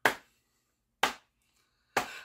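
Three single hand claps, evenly spaced about a second apart, sharp and close with clean silence between them, no voices.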